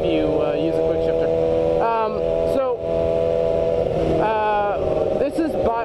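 A motorcycle engine held at steady revs with a quick shifter, the pitch jumping abruptly at several gear changes, close and loud under someone talking.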